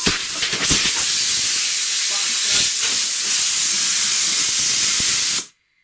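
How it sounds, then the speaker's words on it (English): Compressed air blasts out of a pipe fitting on an old engine in a loud, steady, broadband hiss that runs for over five seconds, then cuts off abruptly. "Blowing the pipe fitting out of there"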